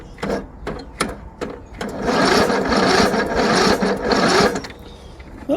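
Starter cranking the engine of a John Deere Sabre riding mower that sat unused for a decade, a few short clicks and chugs, then a sustained whirring turnover for about three seconds, close and fairly loud.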